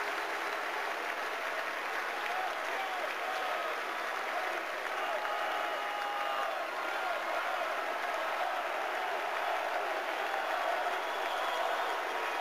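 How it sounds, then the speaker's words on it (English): Sustained applause from a large crowd of hockey fans standing in an arena as the Stanley Cup is carried out after the 2008 Final, a steady even wash of clapping throughout with no break. "many of them applauding as it is carried out to be presented"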